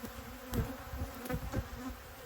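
Honeybees buzz in a hive as new brood hatches, a steady close drone with a few louder passes of individual bees, no voices.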